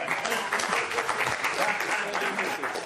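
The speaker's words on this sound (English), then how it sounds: "this is where you clap" A studio audience claps on cue, a dense, steady burst of applause that fills the whole stretch at close, even loudness.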